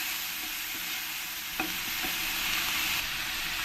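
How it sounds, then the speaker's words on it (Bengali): Onion paste sautéing in a pan for a Bengali egg and jackfruit curry: a steady broadband sizzle throughout with a few soft stirring scrapes, close and continuous, no voices. "এই পেঁয়াজ পেস্টটাকে দিয়ে আমি ভালো করে একসঙ্গে আমি কষিয়ে নেবো"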